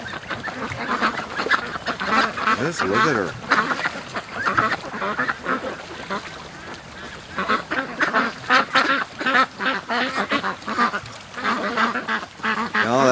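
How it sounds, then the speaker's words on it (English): Free-range ducks on a morning rush toward a lake, quacking constantly in a busy, overlapping flock chorus close by, with a person speaking briefly over the noise. "That is a beautiful looking duck."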